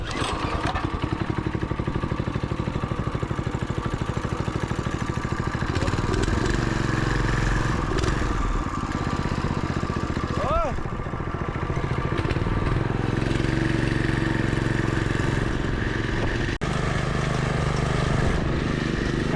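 Coleman B200R shifter kart with a 212cc engine and torque converter on its first off-road test drive, a loud rough small-engine drone running steadily throughout with rattling clatter and a few pitch swells, close to the microphone.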